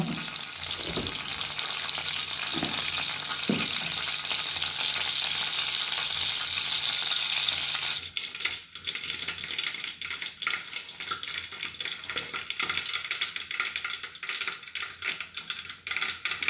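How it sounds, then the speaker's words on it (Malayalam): Mustard seeds spluttering in hot oil for a Kerala curry, a steady broadband sizzle with scattered crackles and pops, close and fairly loud for the first half, then quieter, choppier sputtering as the popping dies down; no talking. "എണ്ണയൊക്കെ ഒഴിച്ച് കടുകൊക്കെ ഇട്ടു."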